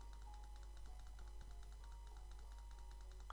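Rapid, repeated mouse clicks from playing Chicken Farm 2K17 tap out a quick, even rhythm, close and fairly quiet against a steady low hum, with no talking.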